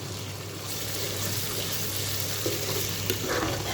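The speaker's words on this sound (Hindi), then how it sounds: "ये देखिए अभी हमने इसको प्याज में अच्छी तरह से मिक्स कर दिया और इसको भी अच्छी तरह से सौटे कर लेंगे" Ginger and garlic sizzling with onions in a pan, a steady, close frying hiss with light stirring scrapes and no talk.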